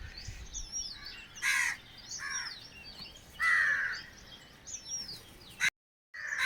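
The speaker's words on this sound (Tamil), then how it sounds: "காக்கா மேலே காக்கா காக்கா" Crows cawing outdoors, several harsh loud caws in separate bursts with quieter chirping birds between them, fairly close and with no talk.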